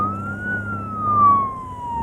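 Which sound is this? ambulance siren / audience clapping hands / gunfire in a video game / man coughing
ambulance siren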